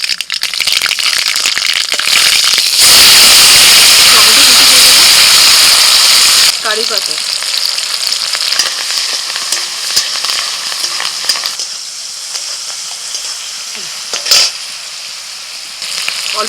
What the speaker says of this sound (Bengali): কড়াইতে সরষের তেল দিয়েছি ফোড়নে দিচ্ছি শুকনো লঙ্কা তেজপাতা কালো সরষে